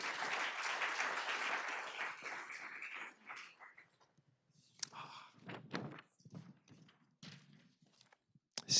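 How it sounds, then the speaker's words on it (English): At a school board meeting, the room breaks into applause that lasts about three seconds and then fades, followed by scattered footsteps, light thumps and shuffling in a quieter room. "Let's give her a round of applause."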